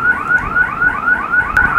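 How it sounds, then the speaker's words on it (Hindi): A Hikvision NVR/DVR motion detection alarm sounds loud and close, a rapid repeating siren-like whoop cycling steadily with no talk. "ये इमेज पे फ़र्क पड़ते ही अलार्म बजने लग पड़ा है।"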